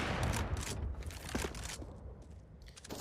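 A sniper rifle fires in a Counter-Strike match at an IEM Beijing semi-final among a dense, noisy mix of game gunfire and crowd roar, the single shot not standing out clearly.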